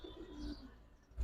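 Feather-footed pigeons at a pigeon sale give a soft, close, drawn-out coo in short rising and falling phrases, quiet and alone with no talk over it.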